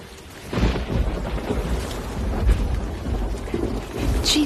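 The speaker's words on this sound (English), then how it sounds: "And it's raining." Steady heavy rain with a deep rolling rumble of thunder building and lingering throughout, loud and close, with no voices.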